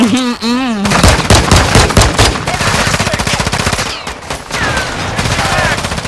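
Rapid automatic gunfire rattles loudly and almost continuously in Call of Duty: Modern Warfare II Infected mode, with a short pause near the middle and a brief shouted voice before the bursts begin.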